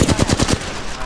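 A short, loud, close burst of rapid automatic gunfire in the battle royale shooter Apex Legends, with about six quick shots that then fade into a ringing tail.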